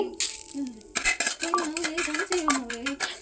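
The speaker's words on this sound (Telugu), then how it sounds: "ఫ్రై అయిన సేమియాని స్టవ్ ఆఫ్ చేసి వేరొక బౌల్లోకి తీసుకోండి." A metal spoon scrapes and clinks against a pan as ghee-fried vermicelli for semiya payasam is moved into another bowl. A run of close, busy clatters and scrapes comes after a brief soft sizzle at the start.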